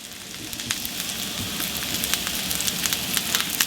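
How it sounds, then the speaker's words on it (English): Mushrooms sizzle steadily in a hot pan, a dense, close, continuous crackle and hiss with scattered sharper pops throughout. "You hear that sizzle? You gotta hear the sizzle."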